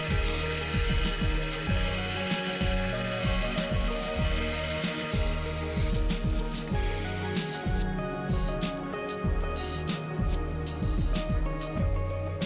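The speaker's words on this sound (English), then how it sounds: "I use the mill to clean up the raw cuts" A milling machine cleans up raw cuts on a metal workpiece, whining steadily with a rhythmic chatter of cutter strokes; the pitch and texture shift partway through as the cut changes.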